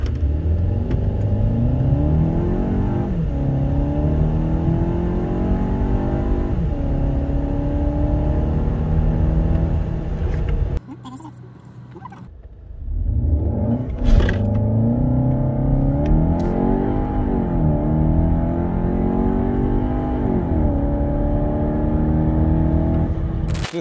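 Škoda Karoq with a 190 hp, 320 Nm petrol engine accelerating hard, loud rising engine note climbing through the gears, with a brief drop at a gear change before the revs build again.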